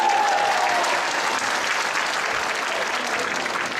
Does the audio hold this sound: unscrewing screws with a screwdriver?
no